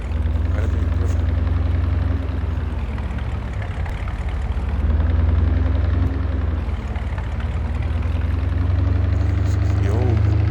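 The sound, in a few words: old gas tractor engine running in Farming Simulator 22 video game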